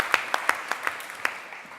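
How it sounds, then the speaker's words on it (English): Scattered clapping from a pitch day audience, a handful of distinct sharp claps spaced irregularly and fading out, thin rather than full applause. "Your applause once again."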